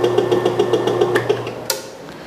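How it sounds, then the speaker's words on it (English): The motor of a Grizzly G9742 metal cutting band saw runs with a steady mechanical hum and a rhythmic pulsing beat, close and loud, then ends in a sharp clunk as it jerks, with no talk. "you'll see that when I turn it on, the motor jerks"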